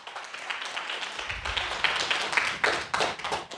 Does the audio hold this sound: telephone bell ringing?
no